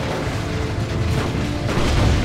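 A grenade goes off in a Dawn of War 2: Retribution multiplayer battle, a loud rumbling boom blended into dense, continuous battle noise and distant weapon fire.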